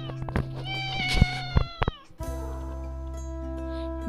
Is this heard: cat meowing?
yes